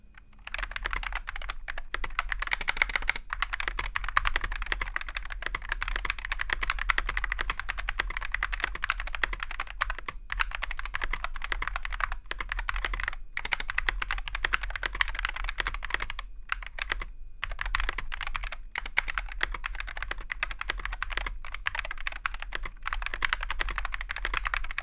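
Steady, continuous typing on a Monsgeek Fun60 Pro Hall-effect mechanical keyboard, fast clacky keystrokes running throughout at an even, moderate loudness, with no talking.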